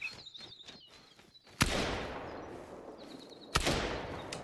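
Two sharp, loud shotgun blasts ring out during a ring-necked pheasant hunt in TheHunter Call of the Wild, in a salt-marsh park. Each rolls off in a long echo, with birds calling faintly between the shots.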